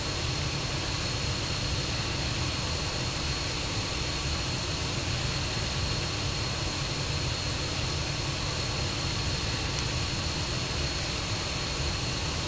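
An A-164 fixed-wing aircraft flying in Arma 3 gives off a steady, unbroken engine drone and wind roar, constant in loudness throughout with no talking.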